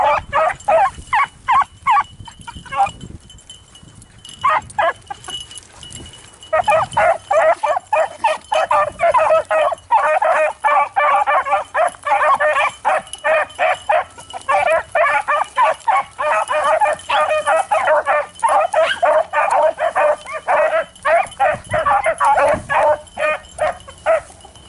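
Hunting dogs barking continuously on a rabbit chase outdoors, a rapid run of loud, overlapping yelps and bays that keeps going nearly throughout with only brief gaps.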